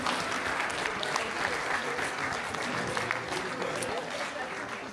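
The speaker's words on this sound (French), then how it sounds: "je vous demande d'applaudir avant même qu'il ait commencé" A conference audience applauds a speaker about to begin, producing a dense, continuous wash of clapping with sharp individual claps standing out, steady and fairly loud throughout.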